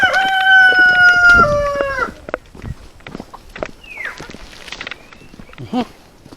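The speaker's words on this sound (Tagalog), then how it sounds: "Mga manok." A rooster crows loudly and close by, then free-range hens cluck and chatter sporadically amid light rustling and scuffing footsteps on a chicken farm in Bauang, La Union.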